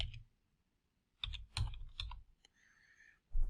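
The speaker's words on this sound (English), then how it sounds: "as I started typing Marketplace, it brings up now Microsoft AppSource apps" Bursts of typing on a computer keyboard in a quiet room, a short flurry at the start and then several quick clusters of key clicks separated by pauses, close and fairly soft.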